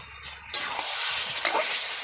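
Chicken frying with spices in a pan, a loud continuous sizzle close up, broken by a couple of sharp stirring scrapes.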